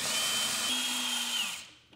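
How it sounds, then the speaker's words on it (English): A power screwdriver whines for about a second and a half, taking out Phillips screws from a freezer panel inside a Samsung refrigerator, then winds down to silence. "Next, remove these two Phillips screws."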